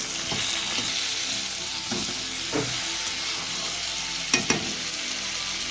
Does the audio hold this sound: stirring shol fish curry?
yes